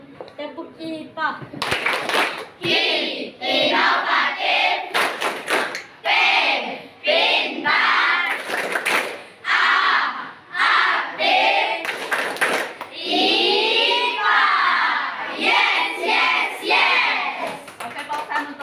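Junior high students in a science class chant the tepuk IPA clapping routine together, steady bursts of rhythmic hand claps mixed with children's chanting voices across the whole stretch, loud and close in a classroom.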